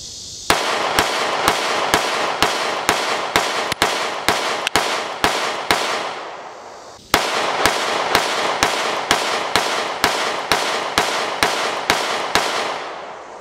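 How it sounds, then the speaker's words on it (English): Two strings of Sig Sauer P365 pistol gunshots, about nine sharp, loud, evenly spaced shots in each volley, with a brief pause between the strings and no talking. "we're going to go ahead and shoot them side by side just to check it out"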